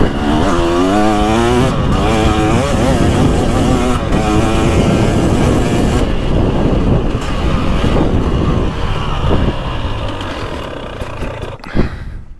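A 300cc two-stroke dirt bike, either a 2024 Beta 300 Race Edition or a 2023 Husqvarna TX300, revs hard close up while riding a GP woods course, its loud rising and falling engine note steady under wind buffeting before easing off near the end.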